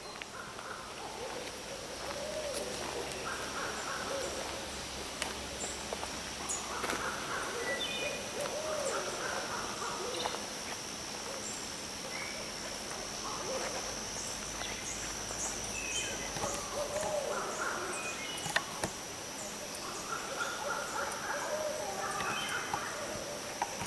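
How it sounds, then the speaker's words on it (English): Owls hoot repeatedly at night outside a tiny house, their calls rising in clustered bursts that sound jungle-like, moderately distant over a faint steady hum with occasional small clicks. "The owls, once they get going, they sound like monkeys in the jungle."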